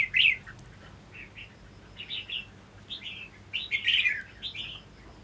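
A lively caged songbird chirps in short bright bursts, several quick tweets spaced irregularly across the stretch, close and clear over a quiet background with no talking.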